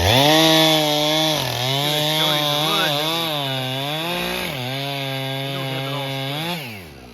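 A chainsaw with a 20 or 24 inch bar bucks black oak firewood, its engine droning loudly and steadily while the pitch dips and rises as the chain bites through the log, no talking.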